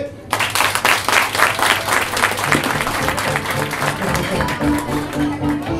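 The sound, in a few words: audience applause at improv comedy show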